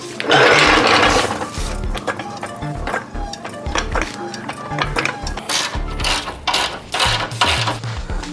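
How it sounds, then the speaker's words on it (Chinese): Ratcheting wrench work loosening the top three bolts of a Honda FD2 shock absorber during a suspension swap, with loud, close, busy clicking and metallic rattling in irregular bursts across the whole stretch. "首先呢，先把上面3个螺丝拆了。"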